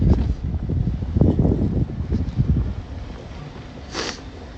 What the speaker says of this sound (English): Yeah, I hear a lot of that wind.